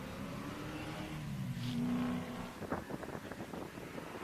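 A BMW E46 built for time attack racing drives past at a track, its engine note swelling briefly and then fading under a fairly quiet, distant background.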